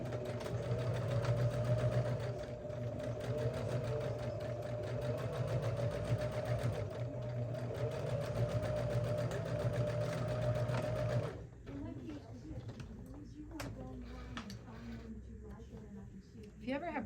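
A sewing machine stitches a tote bag in a steady, close, continuous whir for about eleven seconds, then stops, leaving quieter handling sounds.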